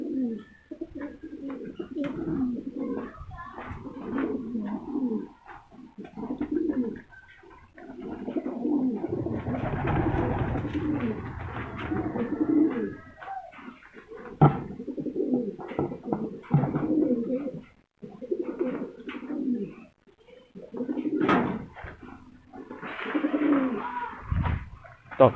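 Racing pigeons cooing in repeated low throaty phrases, several birds overlapping at close range, with a rustling flutter midway and soft background noises.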